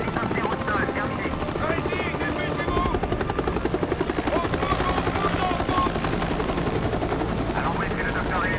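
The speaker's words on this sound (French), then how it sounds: "Hélicoptère au sol." A helicopter sits on the ground after landing, its rotor throbbing in a loud, continuous, close rhythmic chop that fills the scene, with a brief sharper pulsing stretch partway through.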